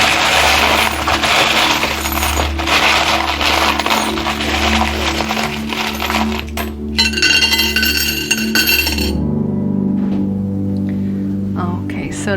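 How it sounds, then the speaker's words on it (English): Metal tarot charms rattle and clink steadily as they are shuffled, a loud, continuous jingling texture for about nine seconds before it drops away to quieter handling. "it's gonna get loud while I shuffle some charms"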